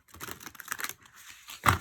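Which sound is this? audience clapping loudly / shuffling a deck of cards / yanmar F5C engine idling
shuffling a deck of cards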